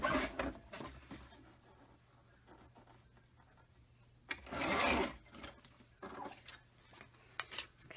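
Paper is cut on a trimmer, with a bright sliding rasp of the blade and shorter scraping strokes around it, close and fairly quiet, with no talk.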